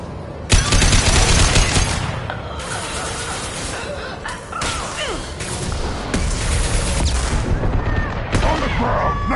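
Heavy gunfire in the video game Mass Effect 2, a dense, loud, continuous barrage of shots and impacts mixed with battle noise that runs through nearly the whole clip.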